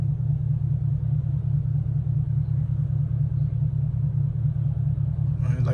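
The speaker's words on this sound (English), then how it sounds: "the idle is pretty loud though" A car with a muffler delete idles at night with a loud, deep, steady rumble that stays constant throughout, with a faint sound rising briefly at the very end.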